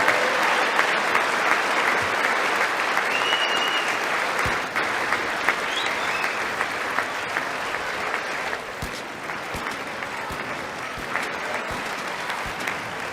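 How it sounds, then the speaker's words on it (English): Sustained audience applause at a presidential speech, a steady dense wash of many hands clapping that carries on evenly and fades slightly toward the end. "We're still clapping, huh?"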